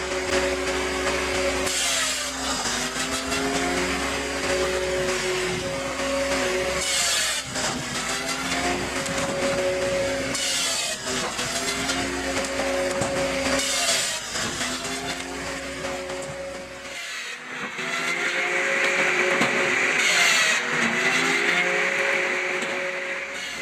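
A firewood processor machine cutting raw logs into firewood roars loudly and steadily, its engine droning with repeated cutting passes and tonal whines, then a brief lull before a louder, hissing stretch.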